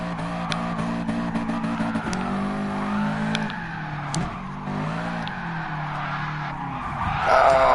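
A Corvette and a Subaru Impreza drift in tandem in GT Sport, with continuous squealing tyre skids layered over droning, revving engines, loud and sustained throughout and rising at the end.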